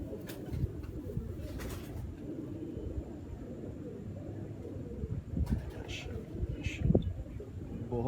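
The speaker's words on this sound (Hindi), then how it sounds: "ये हमारे है तो टैडी 11 नंबर कबूतर हम इनको कहते हैं" Teddy-breed pigeons coo in low, throaty repeated calls, near and fairly loud, with scattered voices talking nearby.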